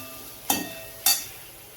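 Homemade masala with garam masala and garlic is sautéed in a pan for a village-style matar dish: two brief scraping stirs over a low, steady sizzle.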